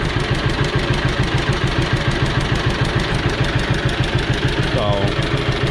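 An old John Deere B tractor sits at full idle, its engine chugging in a steady, loud, even pulse right up close, with a brief higher tone cutting in near the end.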